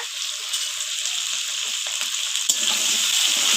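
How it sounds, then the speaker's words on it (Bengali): Potatoes with turmeric fry in hot oil, a close, steady hiss and crackle of sizzling broken by a few stirring scrapes, with the sizzle briefly swelling partway through. "আলু অল্প হলুদ দিয়ে আলুগুলো একটু ভেজে নিয়ে"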